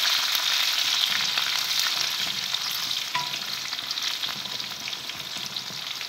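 Sesame seeds, green chilies and curry leaves crackle in hot oil in a steady, close sizzle while a spoon stirs through the tempering for a dhokla, with no voices.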